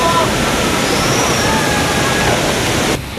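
Water pours loudly from a waterfall into a cool mountain stream during a Taiwan river-tracing trip, a dense, unbroken roar that drops away sharply just before the end.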